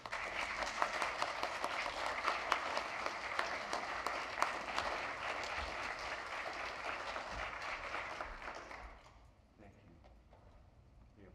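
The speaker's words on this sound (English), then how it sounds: "They don't applaud for songs, but they applaud for talking." A church congregation applauds during a Sunday service, a dense, steady wash of many hands clapping that carries on for several seconds, then stops abruptly and leaves a quiet room.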